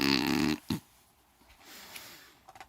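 A voice imitates a bear snoring with one loud, rasping snore up close, followed by a few faint breathy sounds and soft clicks.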